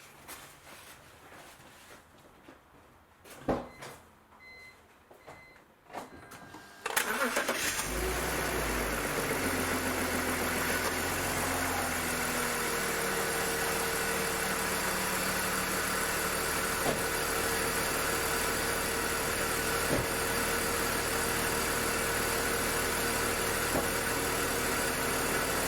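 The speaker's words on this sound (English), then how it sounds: "We can get our engine running" A BMW car engine cranks and starts after a few quiet knocks and clicks, then settles into a steady, even idle that hums on for the rest of the clip with no talking.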